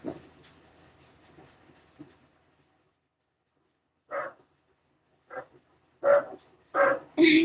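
A dog in the neighbouring house barks, four or five sharp barks spaced a second or so apart after a quiet stretch, moderately close, following faint earlier noises.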